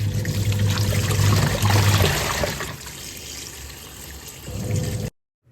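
Tap water runs through a pipe into a washing machine, a loud continuous gush and trickle with a low rumble that eases midway, then cuts off abruptly near the end.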